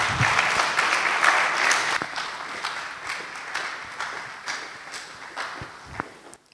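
Audience applause at an event following a speech, a moderate crowd clapping steadily and fading gradually toward the end, with scattered louder claps standing out.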